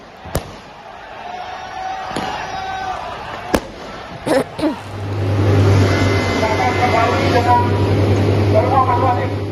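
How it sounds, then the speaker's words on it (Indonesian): Sharp firework bangs and pops thrown by protesters at night crack out over a noisy street outside Polda Metro Jaya police headquarters in Jakarta, with voices and a deep engine rumble building beneath them. "Aksi ini dibalas dengan lemparan kembang api dari pendemo."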